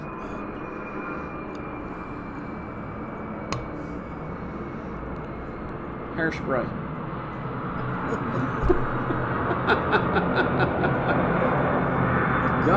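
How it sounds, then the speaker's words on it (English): A jet airplane flies low overhead above a residential driveway, a broad steady roar that swells gradually and grows loudest near the end, with faint scattered sounds and a brief voice. "God, there's a jet landing in our driveway."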